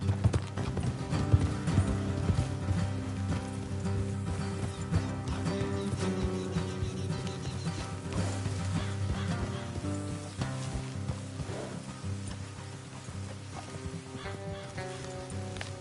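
Horses in Red Dead Redemption 2 clip-clopping steadily for the whole stretch, hooves layered under a dense, continuous game soundscape with a faint bird or fowl call now and then.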